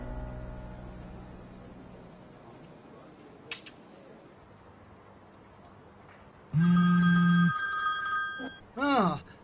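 A telephone rings twice in short, loud electronic bursts, following a quiet stretch of soft room noise with faint background sounds.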